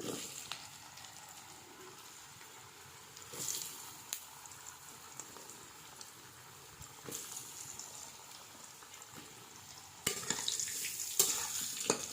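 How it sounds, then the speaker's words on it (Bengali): Potatoes frying in oil with dried chili and cumin over a wood-fired clay stove, a faint, steady sizzle with occasional louder stirring scrapes, growing busier toward the end. "শুকনো লঙ্কা জিরে ফোড়ন দিচ্ছি আলু দিয়ে দিলাম"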